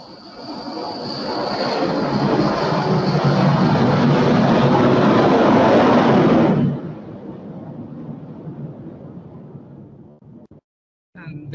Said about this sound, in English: let this plane go overhead